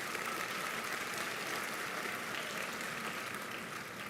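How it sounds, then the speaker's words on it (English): Audience applause at a graduation ceremony, a dense, steady wash of clapping from a large crowd that holds at full strength throughout, with no speech over it. "Give him another round of applause, please."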